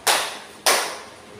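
Two sharp, separate claps ring out in a group clapping game, each a single crisp hit with a short decay, spaced about half a second apart with no talk.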